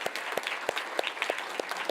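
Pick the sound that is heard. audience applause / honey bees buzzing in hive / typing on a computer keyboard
audience applause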